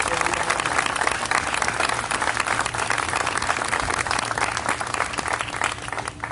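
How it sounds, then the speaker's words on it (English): An audience at a university STEM bus launch ceremony applauds in a dense, sustained burst of many hands clapping at once, staying steady and loud before easing slightly at the very end. "So let's have a round of applause and recognize all of the people who helped us."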